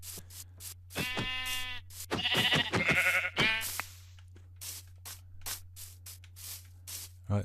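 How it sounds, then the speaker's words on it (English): Sheep in Minecraft Bedrock Edition bleat several times in quick, close succession over a steady low hum, with soft rhythmic game footsteps before and after. "Oh, sheep."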